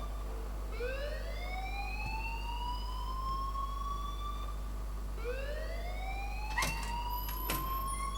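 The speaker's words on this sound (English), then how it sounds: "please turn off that alarm since that's your job" Alarm in the video game Life Is Strange, a loud electronic siren that sweeps upward in pitch twice, each rise lasting several seconds, over a low steady hum with a couple of sharp clicks near the end.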